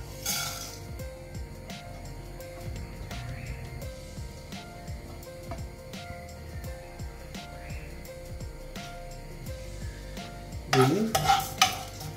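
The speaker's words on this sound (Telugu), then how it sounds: "పోపు దినుసులన్నీ దీంట్లో యాడ్ చేసాం." Whole tempering spices frying in about two tablespoons of hot oil in a kadai for an Andhra-style beetroot dish: a steady close sizzle with light stirring clinks, ending in a louder crackling burst.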